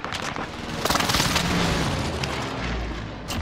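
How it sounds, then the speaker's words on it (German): A precision airstrike explodes in a shooter video game: a sustained, loud rumbling boom with bursts of crackling blasts layered over it and a deep low roll building toward the end. "Enemy precision airstrike."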